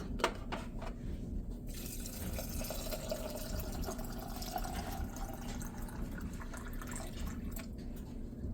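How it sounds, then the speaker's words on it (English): Tap water runs steadily into glass canning jars packed with dry pinto beans, a continuous splashing, gurgling fill with a few clinks near the start. "Now you're going to fill each jar with water"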